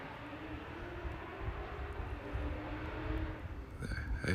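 A distant car with a Rotrex supercharger accelerates hard on a test drive, its engine rising as a faint, far-off roar that slowly swells and grows louder toward the end.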